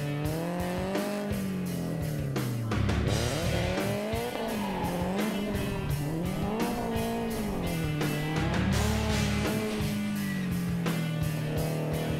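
A car in a drifting competition run, its engine rising and falling in pitch as the tires squeal loudly through long slides, the sound near and continuous with no voices.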